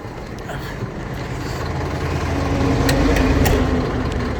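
Mercedes-Benz 817L truck idling, a steady low diesel rumble that holds even and stable throughout, close by with no talk.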